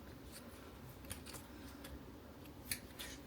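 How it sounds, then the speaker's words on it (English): Scissors cut pieces of foam offcuts, making faint, quiet snips scattered across a few seconds against a low background hiss, with no voices. "Let's just cut a few pieces out"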